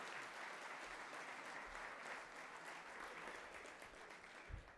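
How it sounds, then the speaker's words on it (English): A breakfast crowd gives an award recipient a big round of applause, dense and steady clapping from many hands held at an even level throughout. "And now you can give her a big round of applause."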